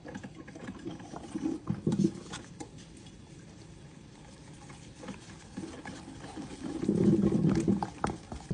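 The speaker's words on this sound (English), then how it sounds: "All that noise is my coffee pot making me some coffee." A coffee pot brews in a kitchen, giving a bubbling, spluttering gurgle that swells in two louder bursts over a soft continuous hiss.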